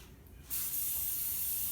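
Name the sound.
spraying the bottom of a cake pan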